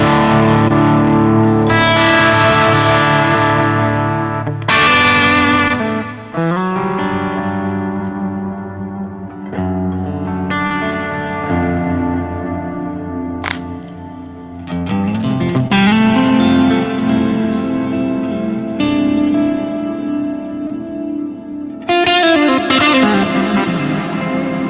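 Electric guitar improvising through effects such as distortion, chorus and echo, in a Fender live lesson setting: a continuous, loud, sustained stream of layered notes and chords with reverb tails, no talking.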